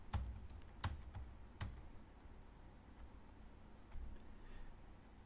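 Typing on a computer keyboard, a handful of quiet, uneven keystrokes with brief pauses, faint and close, with no talking.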